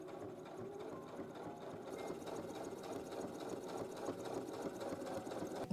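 Sewing machine stitching a DIY jacket for a co-ord set, a steady, continuous mechanical whir with a fast rhythmic needle pulse, close and moderately quiet, running alone without talk.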